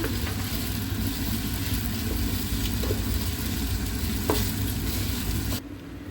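Pulao cooking in a pot on a cloudy afternoon gives a steady, dense sizzle with occasional stirring scrapes, fairly loud and close throughout, dropping off sharply near the end.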